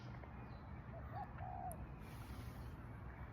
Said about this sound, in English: And all I can hear is the chirping of birds.